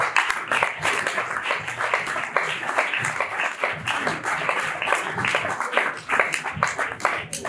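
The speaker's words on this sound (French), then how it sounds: "Je demande à nos étudiants d'applaudir très fort." Students seated in a hall at IFASIC clap loudly on request, a busy, uneven patter of many hands that swells and dips throughout without any talk.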